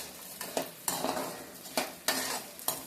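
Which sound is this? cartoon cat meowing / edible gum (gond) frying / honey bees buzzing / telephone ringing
edible gum (gond) frying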